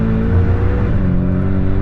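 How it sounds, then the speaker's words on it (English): Steady, loud drone of a Porsche 718 Cayman's turbocharged four-cylinder engine, a constant low throbbing hum with no voices. "A lot of people complain about the engine sound, and it is not great."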